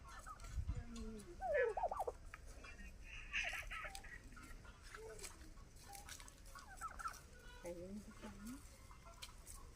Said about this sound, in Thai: ไก่งวงกำลังกินอาหาร